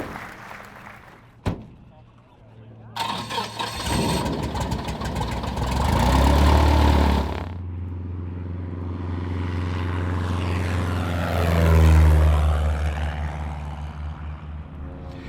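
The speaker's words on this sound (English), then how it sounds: "Come on, Carol, let's go and take a look at this airplane." A small propeller airplane engine coughs, starts and settles into a loud running drone that swells and eases, with faint talk underneath at times.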